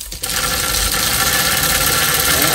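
A restored Marx O gauge Commodore Vanderbilt toy train engine runs with a loud, steady mechanical whir and rattle, starting abruptly and holding constant throughout.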